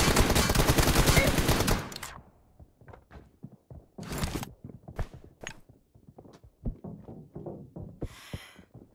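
Rapid automatic gunfire from the PUBG Mobile video game rattles loud and close for about two seconds, then scattered single shots and sharp bangs follow irregularly through the rest.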